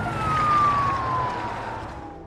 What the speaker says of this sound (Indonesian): terdengar suara sirine polisi